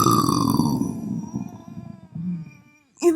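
A long, loud, drawn-out burp after eating Burger King rumbles and slowly fades over a few seconds, then a short sharp vocal sound cuts in at the end.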